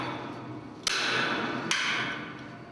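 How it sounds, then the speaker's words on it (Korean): Hammer blows strike bolts on a tower crane mast being dismantled, two sharp metallic hits spaced under a second apart over a steady wash of outdoor wind and machinery noise. "망치질에는 더욱 힘이 실리는데"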